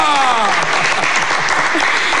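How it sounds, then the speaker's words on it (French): Studio audience applause at a Congolese church broadcast, dense and loud clapping that carries steadily from start to end, with a voice speaking over it at first. "Alors on applaudit pour Ridi Ngouya."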